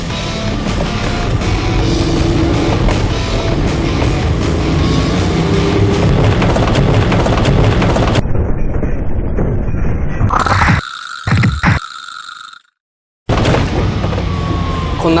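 Car suspension thumping hard over a bump while driving, before a soft bump rubber install; continuous road and cabin rumble with a jolt, then a sharp clunk and brief near-silence.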